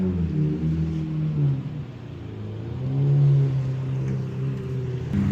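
A loud car pulls up nearby, its engine droning low and rising into a throaty rev midway before easing off, with no talking over it.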